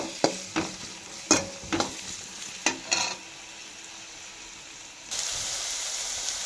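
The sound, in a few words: green beans, capsicum and chilli sautéing in a pan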